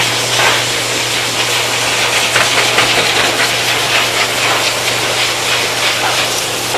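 Loud pet grooming dryers blow steadily on a Boxer dog, a continuous broadband roaring whoosh with a low motor hum underneath, unbroken throughout.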